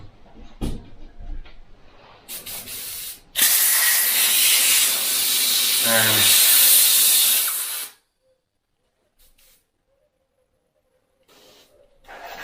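A loud burst of compressed air hisses and sprays for several seconds as an airbrush is blown out, with shorter puffs before and after, then cuts to near silence.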